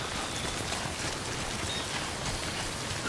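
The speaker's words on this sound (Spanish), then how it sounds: "Mierda de lluvia, de verdad." Steady, dense video game rainfall hissing evenly across the whole clip, with a constant wash of drops and no voices or other sounds.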